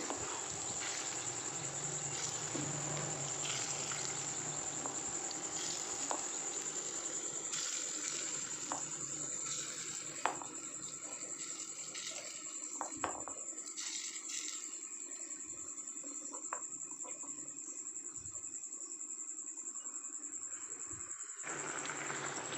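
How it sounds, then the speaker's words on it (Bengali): Lentil fritters for a pointed gourd curry fry in a generous amount of oil, a faint, steady sizzle with scattered small pops and crackles that continues for a long stretch without talk. "পটলের তরকারিতে ডালের বড়া দেবো তার জন্য বড়াগুলো একটু ভেজে নিচ্ছি ভালো করে"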